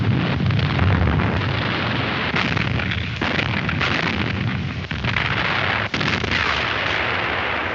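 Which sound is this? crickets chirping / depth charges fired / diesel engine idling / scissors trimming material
depth charges fired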